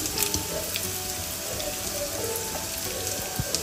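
Dry red chillies fry in hot oil as a tempering for Hyderabadi khatti dal, making a dense, steady crackling sizzle with occasional sharper pops, close and alone.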